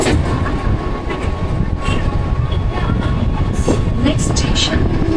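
Mumbai local train running between CSMT and Govandi, with a loud continuous rumble and rattle of the carriage and scattered clanks close by.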